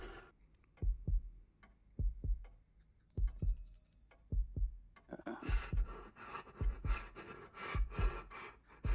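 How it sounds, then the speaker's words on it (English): A heartbeat sound effect in The Paperman horror game, felt through a haptic vest, beats in steady double thumps. The low pulses are near and loud, and a harsh, noisy rumble rises over them partway through. "I can feel that heartbeat with this vest."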